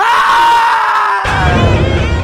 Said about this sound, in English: I heard screaming coming from upstairs.